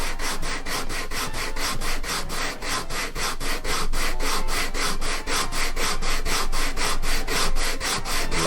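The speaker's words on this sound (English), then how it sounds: "Lots of sanding." Rhythmic back-and-forth rasping of sandpaper on wood, steady and close, repeating about three strokes per second with no voices.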